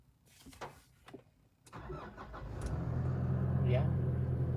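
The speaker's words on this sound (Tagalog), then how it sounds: "Tapakan mo yung brake and then one push lang sa push button." Nissan Terra with automatic transmission started by push button: a few clicks, a short cranking whir, then the engine catches and settles into a steady idle, heard close up.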